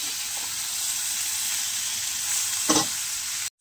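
Preserved jackfruit, frozen months earlier, frying in a pan for a curry, giving a steady close sizzle with a brief louder stir or hiss near the end and no talk.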